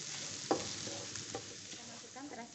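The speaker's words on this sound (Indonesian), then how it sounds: "Kita tumis lagi hingga harum ya, hingga matang." Green chili paste sautéing in oil in a pan, a continuous close sizzle with spatula stirring scrapes and one sharper knock of the utensil against the pan, no voices.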